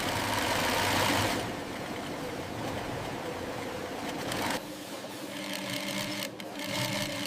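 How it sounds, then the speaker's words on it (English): Industrial sewing machines whir steadily in a jacket factory, a dense mechanical hum and rattle that shifts in pitch and texture as the machines run on without pause. "Now the sewing process begins."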